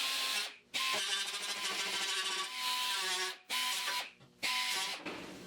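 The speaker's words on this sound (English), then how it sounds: "I'm gonna just weld it." Welding on the body of a 1972 Triumph GT6 makes a harsh, dense crackling buzz in three or four bursts separated by short silent pauses, close and fairly loud, with no talking.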